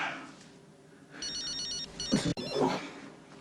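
A mobile phone rings with a bright, repeating electronic ringtone pattern, close and moderately loud, starting after a quiet moment and cut by a brief clunk as the handset is handled.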